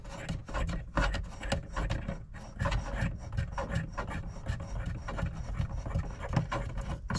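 A screw being backed out of a fuse panel cover during a Chevrolet fourth-generation F-body engine harness install, giving steady close rasping and scraping turns that run continuously without speech.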